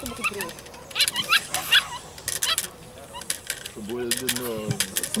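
A puppy being trained to grip and release a cloth rag with its whole mouth, giving short yips and whimpers mixed with a person talking over it.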